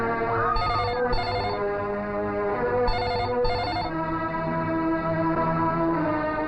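A mobile phone rings alone, a steady electronic bell-like ringtone repeating in two short bursts with gaps, loud and close against a constant background hum.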